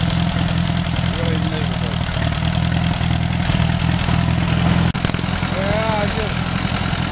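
Allis Chalmers B tractor engine idling steadily with a slight sputter from a worn carburetor, loud and constant close by while a voice talks briefly over it.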